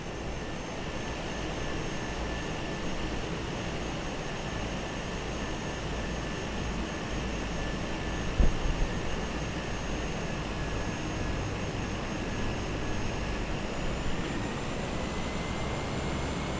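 Cessna light aircraft on landing approach to runway 26, a steady droning propeller engine with a constant broadband roar and faint whining tones, heard from inside the cabin with no break in the noise.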